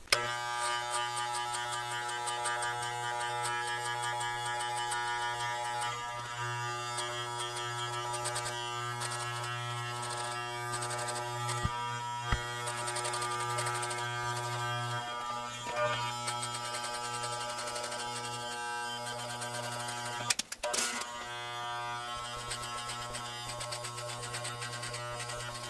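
Electric hair clippers fitted with a 2 guard buzz steadily and close by as they cut through thick hair, the drone shifting slightly as strokes change, with a short rattle near the end.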